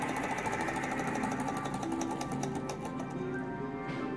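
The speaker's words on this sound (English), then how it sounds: "I've never had a toy engine before." A small HA001 toy alcohol engine runs steadily nearby, giving a fast, even mechanical clatter with a continuous whirring hum and no talking.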